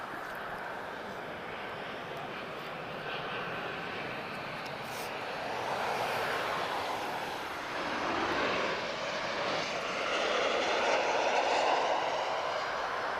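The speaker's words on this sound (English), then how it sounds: "We just have a 737 from Ryanair just sneaking in here." A Ryanair Boeing 737 arriving from Madeira roars steadily at Lisbon Airport, its jet engine noise a broad, continuous rush that swells gradually as it comes in, heard at a distance.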